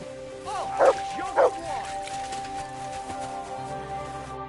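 A dog in a video game gives two short, sharp yips with a whimpering edge, close by and early on. A low steady hum sits under them.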